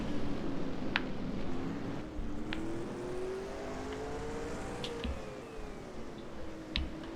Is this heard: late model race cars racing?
yes